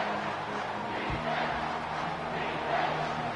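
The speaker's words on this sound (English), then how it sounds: "This crowd is trying to inspire this defense to make a big red zone stop." A football stadium crowd roars as a defense tries for a red zone stop in Clemson versus Oregon, a broad, distant-sounding wash of cheering that swells slightly toward the end.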